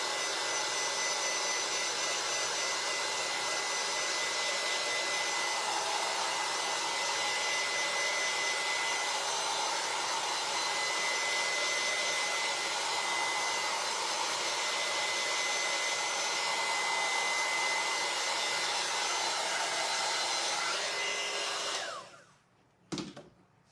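A heat tool drying a paint inlay blows with a continuous steady whir close by for about twenty seconds, then cuts off abruptly, followed by a brief clack.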